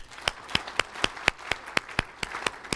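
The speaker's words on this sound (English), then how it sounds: "Everybody clap your hands." Sparse, evenly spaced hand claps in a speech audience, about ten crisp slaps in a loose rhythm roughly every quarter second, close and fairly loud with light room noise between them.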